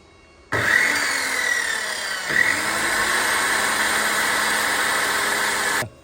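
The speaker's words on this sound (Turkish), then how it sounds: "Birinci basamağımızı keseceğiz. Kullandığım böyle bir kafa kesme testeresi." A miter saw whines loudly as it spins up, pitch dipping as the blade bites into wood for a stair step, then running steadily before stopping abruptly.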